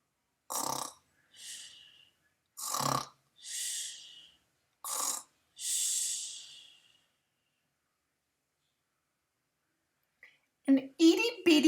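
A human voice imitates a sleeping bear's snoring with six breathy, rasping snore bursts in a slow, uneven rhythm. Silence follows, then brief speech at the end.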